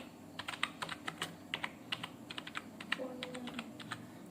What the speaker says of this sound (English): happy birthday. It comes capital.